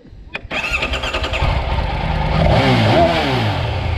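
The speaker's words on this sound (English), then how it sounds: "make the bike go broom broom" A few clicks, then a toy motorbike's small engine sputters to life and revs in a buzzy, rising whine, close and moderately loud.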